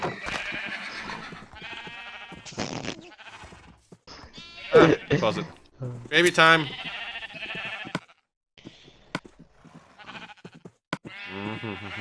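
Black sheep in the game Minecraft bleat several times in short, wavering cries, spread across the scene while someone talks over and between them.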